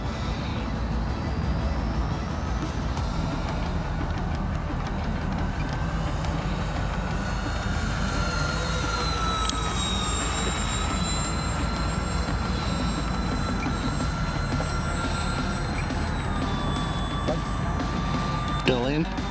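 A loud, steady RC airplane engine drones for a long stretch with a wavering whine as the plane flies outdoors on a clear day, overlaid by heavy wind noise and people chatting nearby.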